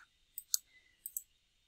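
Computer mouse clicks from someone duplicating code blocks in the Tynker programming environment, two close pairs of sharp, faint clicks with a quiet gap between them and no talking.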